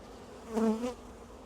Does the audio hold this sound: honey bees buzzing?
yes